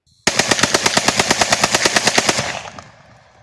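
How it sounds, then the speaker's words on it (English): A firearm fires one loud, rapid automatic burst of roughly seventeen evenly spaced shots, then a ringing echo trails off. No voices are heard. "So Jordan's going to put a link in and probably do some shooting, stuff like that."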